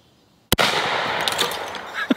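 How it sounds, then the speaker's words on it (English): A shotgun blasts once at clay targets and soda cans, a sharp loud report followed by a long ringing, crackling burst as the cans explode outdoors. "I'm gonna put one round on the clays and one on the sodas"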